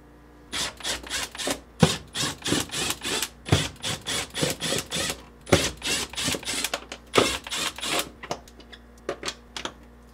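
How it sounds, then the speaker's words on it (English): A 1/4-inch nut driver backs five screws out of the evaporator cover inside a GE French door refrigerator. Close, rapid clicking and rasping bursts repeat steadily with short pauses between turns. "using a 1/4-inch nut driver, remove these 5 screws"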